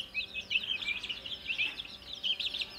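A brood of newly hatched local chicken, duck and turkey chicks fresh from an incubator, peeping in a busy, continuous chorus of high, thin chirps close by.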